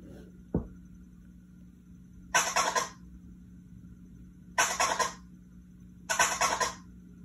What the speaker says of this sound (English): this is a triplet chirp combo